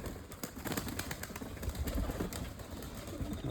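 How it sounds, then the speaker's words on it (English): Pigeons or doves coo steadily while bathing outdoors on a sunny day in Gippsland, their calls dense and continuous at close range, with fluttering and splashing mixed through the whole stretch. "Birds are going to enjoy their having a bath."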